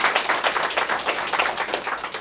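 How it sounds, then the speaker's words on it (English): An audience gives a round of applause for Celeste, steady, fairly loud clapping that goes on throughout without a break. "can we give a roaring round of applause for Celeste?"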